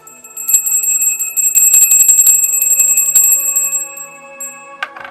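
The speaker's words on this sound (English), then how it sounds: "let's ring that bell" A small bell rings rapidly and repeatedly during a live stream, bright metallic dings overlapping into a shimmering ring for a few seconds, then one last strike near the end, loud and close.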